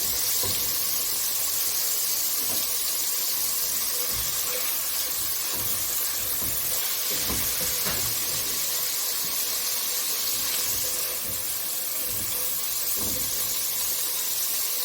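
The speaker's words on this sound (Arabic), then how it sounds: "هنا هنفضل نشوح كده السمين لحد ما يسيح كله يبقى زي السمنه كده" Beef fat sizzles and renders in a hot pan, a continuous bright hiss and crackle running steadily throughout, punctuated by occasional soft knocks and scrapes of stirring, with no talking.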